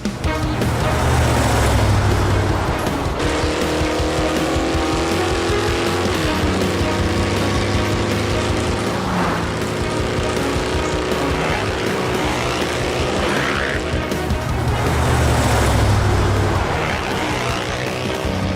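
Cartoon motorbikes ridden along, a steady loud engine drone with shifting revving pitches and sweeping whooshes filling the whole stretch, no voices.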